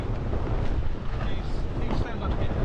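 Sailboat under sail on the Solent with the engine off, heard as strong wind buffeting the microphone and rushing water, loud and close, with voices faintly beneath.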